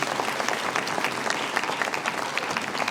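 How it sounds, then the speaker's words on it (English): Audience applause at a medical school Match Day ceremony, a brisk, even patter of many hands clapping close by for a few seconds without a break. "let's give another round of applause for Dr. Atkinson."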